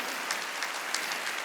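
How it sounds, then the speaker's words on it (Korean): A church congregation claps steadily together during a Wednesday worship service, a dense, continuous patter of many hands at moderate volume with no voices over it. "박수 치고"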